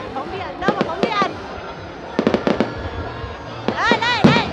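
Fireworks at a public display in Hai Duong, Vietnam, go off in loud bursts, clustered sharp bangs with crackling trails, while nearby people talk excitedly over the steady background crowd.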